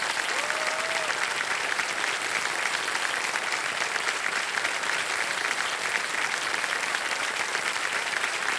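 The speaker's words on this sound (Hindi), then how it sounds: "तालियां बजती रहें इनके लिए जोरदार" A studio audience on the KBC season 17 quiz show applauds a contestant with loud, dense, steady clapping that fills the whole stretch without a break.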